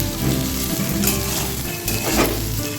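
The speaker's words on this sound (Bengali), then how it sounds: "আমি আলুটা আলাদা করে শেষে ভাজছি।" Boiled potatoes fry in a pan, giving a steady, close sizzle with light crackle and a few scraping stir sounds, no voices.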